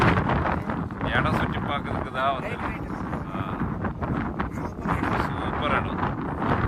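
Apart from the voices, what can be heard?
strong wind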